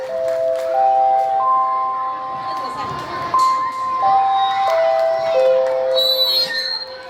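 A crowd of Indonesian schoolchildren at a closing event chant a clapping cheer in loud, sing-song voices with a few claps among them, the group sound close and lively throughout.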